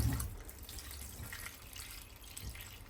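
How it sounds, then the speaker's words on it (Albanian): Soft, steady splashing and trickling of water being added to lamb livers and lights in a pot, close and quiet with no talk. "Ju shtoj ujë derisa ta mbuloj nivelin e tyre."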